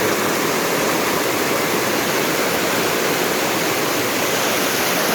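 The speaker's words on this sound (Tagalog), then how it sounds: "ang tawag sa ganyang agos, yung maraming bato na malakas lagaslasan" Strong river rapids rush over many rocks, a loud, dense, continuous roar of water close by with no pauses.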